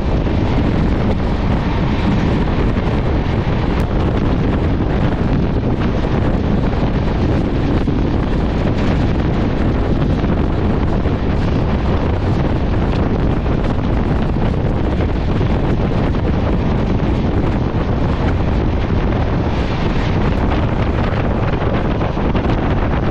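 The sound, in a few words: Sri Jagannath Express train running, wind noise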